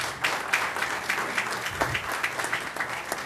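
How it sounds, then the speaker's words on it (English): Applause from the audience at a Portsmouth, Virginia city council meeting, steady moderate clapping from a modest crowd in an indoor chamber, with individual claps audible throughout. "let's give them a round of applause"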